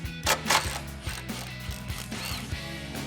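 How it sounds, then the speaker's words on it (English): Impact gun with a 13 mm socket and extension rattling off hanger bracket bolts on a 2008-2023 Dodge Challenger, a rapid ratcheting hammer burst, close and fairly quiet with no talking. "First step, 13 socket, extension, impact gun."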